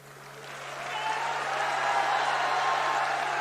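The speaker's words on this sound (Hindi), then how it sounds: "अरे ताली तो बजा रहे हो भाई" Audience at a political rally in West Bengal applauding, a dense sustained wash of clapping that swells over the first second and holds steady, with a constant low hum beneath.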